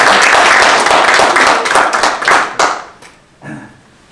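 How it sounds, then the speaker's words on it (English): Applause from a small audience at an improv training session for extension educators, dense clapping for about two and a half seconds, then thinning into a few scattered claps before fading. "Let's give them a round of applause."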